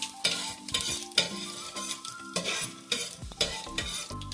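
Urad dal and cashews frying in oil for shavige uppittu, a bright sizzle broken by repeated rhythmic stirring scrapes of a spoon against the pan, close, with no voices.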